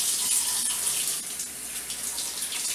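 Tap water runs steadily over strawberries in a sink, a close, continuous splashing hiss with no talking.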